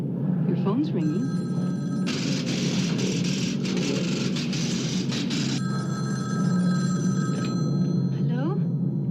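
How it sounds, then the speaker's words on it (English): A telephone bell rings in a steady, insistent burst indoors at night, heard fairly close over a constant background hiss like rain. "Your phone's ringing."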